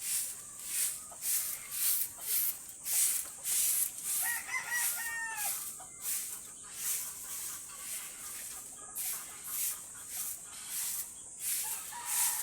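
Hens cluck steadily in the background while a rooster crows once or twice mid-way, with sweeping sounds or rustling repeating throughout.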